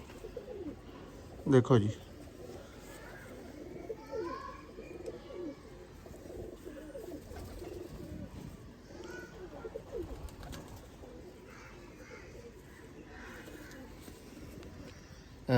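Cross breeder pigeons of a high flyer bloodline cooing nearby, one loud burst of coos early, then softer intermittent calls, with someone talking briefly.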